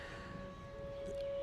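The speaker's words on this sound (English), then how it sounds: "Tornado sirens, but it's fine" A civil defense tornado siren sounds steadily at midday on a Wednesday, a sustained wailing tone running throughout, moderately loud and slightly swelling toward the end, with no talk over it.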